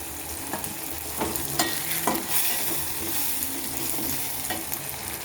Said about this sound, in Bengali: সসটা দিয়ে নেড়ে চেড়ে নিলাম